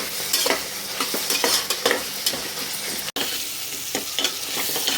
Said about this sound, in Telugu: ఆనియన్స్ ఇంకా ఫ్రై అవ్వలేదండి, వేదికనే ఇంకా కొంచెం కలర్ రావాలి